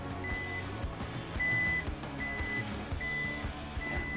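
Repeated electronic beeps, steady and evenly spaced, sound from the electric tailgate of a 2012 Toyota Vellfire as it opens automatically after a module upgrade, over a low steady mechanical hum.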